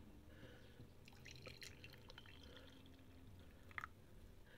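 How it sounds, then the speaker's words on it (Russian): Coffee being poured into a cup before hot water is added, a soft continuous trickle and drip of liquid at low level, with a few brief sharper splashes near the end and no talking. "Так, и наливаем с вами кофе."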